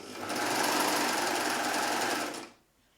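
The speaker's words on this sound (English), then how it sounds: "So just sewing." Sewing machine running a fabric belt through, a loud close continuous whirring burst lasting over two seconds that stops abruptly, with no speech.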